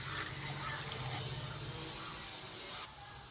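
A bowl of water pours steadily into a pot of dal with spinach greens, salt, turmeric and oil, a continuous close splashing that cuts off abruptly near the end.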